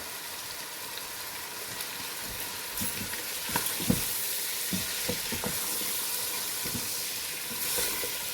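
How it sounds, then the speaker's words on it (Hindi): Steady sizzling of spices frying in a pan for chicken nihari, with a few louder stirring scrapes and clinks through the middle, close and continuous. "इसके साथ ही भूनते हैं"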